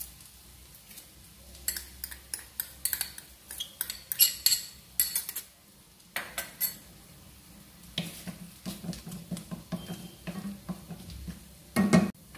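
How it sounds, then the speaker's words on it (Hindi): Whole cumin, cinnamon, cloves, cardamom and bay leaf in a hot pan, heard as repeated close metallic scrapes and clinks of a utensil stirring against the cookware, with only faint frying beneath. "और फिर इसमें सब खड़े मसाले चले जाएंगे, जीरा, दालचीनी, लौंग,"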